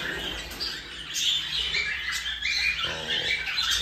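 Caged birds in an aviary flight cage, among them TCB and crested silvery, give faint squawks and short chirps over a soft, steady background hiss, with no one speaking.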